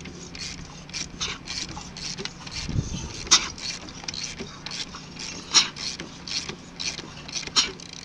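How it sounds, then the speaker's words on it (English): A Mazda RX-8 13B rotary engine, waterlogged and with a blown apex seal and low compression on the rear rotor, cranks over in an uneven, labored rhythm of faint mechanical pulses and clicks, with occasional voices nearby. "if you can hear the rear rotor, this is the compression on it."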